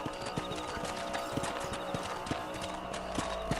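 Horse hooves clip-clopping at a steady trot while riding in the video game Red Dead Redemption, rhythmic muffled thuds under a continuous background bed of game ambience.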